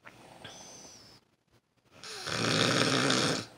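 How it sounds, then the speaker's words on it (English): Two people snoring loudly at night: a whistling snore, a short silent pause, then a long, rough, rasping snore that swells close and loud. "both of them are snoring like crazy"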